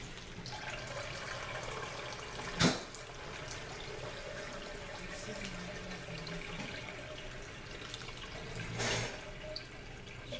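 Water is poured through the top of a hydroponic grow system, giving a steady, close trickling and splashing flow throughout, with a couple of brief louder knocks or splashes.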